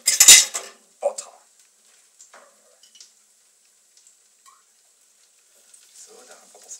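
A knife taken up and scraped through butter in a pot for an Argentine beef goulash, a sharp metallic clatter at the start, then a few soft taps and faint scrapes in an otherwise quiet kitchen.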